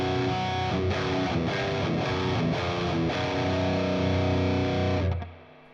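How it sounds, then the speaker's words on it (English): A heavily distorted metal guitar played through an AMP1 amplifier into only a diesel cab: chugging palm-muted riffs with thick, saturated tone and repeated rhythmic attacks, loud and up close, cutting off and ringing out at the end. "Let me now switch to another setting where I would have only a diesel cab."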